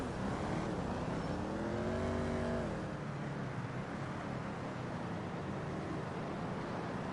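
Car engine in GTA Online revving up with rising gear-like pitch sweeps, then settling into a steady drive-by rumble, close and continuous without speech.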